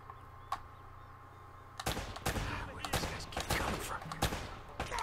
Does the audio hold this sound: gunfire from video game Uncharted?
yes